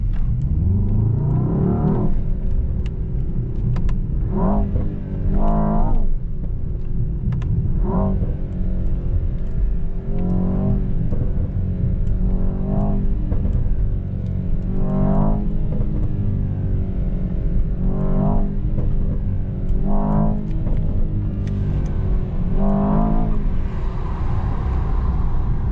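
A Mercedes S63 AMG E-Performance V8 drives along, its engine rising and falling in repeated revving surges over a steady road rumble, loud and close with no talking.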